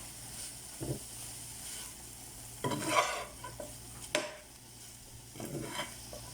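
Chicken pieces seasoned with crushed oregano get stirred in a hot pan for a New York-style chicken supreme pizza, making a few separate scraping swirls with pauses of quieter sizzling between them.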